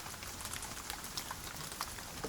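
Gentle rain falling steadily, a soft continuous hiss with scattered drops pattering nearby, no voices, as in an outdoor pond setting.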